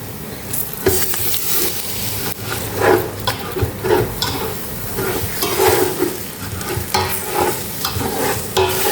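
Garlic frying as sugar roasts in a pan for braised pork leg rice, giving a dense, close sizzle broken by irregular scraping and stirring strokes, with no talking.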